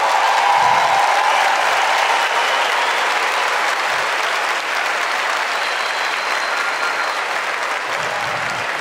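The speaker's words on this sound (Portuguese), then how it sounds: "eu queria que você aplaudisse esse irmão que está do seu lado" A Catholic church congregation applauds during a sermon, a loud, even wash of clapping from many people that holds steady for the full stretch.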